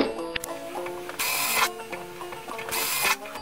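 A power drill whines in two bursts, drilling out a metal can for a banjo build with a gritty, rattling buzz, amid clinks and tool handling noises close by.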